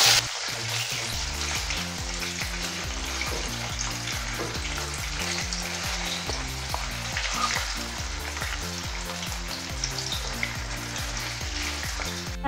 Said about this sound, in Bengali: কড়াইয়ে তেল গরম করা হয়েছে, এবার আমি আস্তে আস্তে পনিরগুলোকে ছাড়বো।